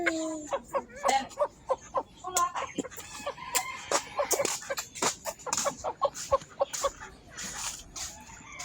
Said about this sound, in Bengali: শৌখিন মুরগি আমাদের কাছে হিউজ পরিমাণ আছে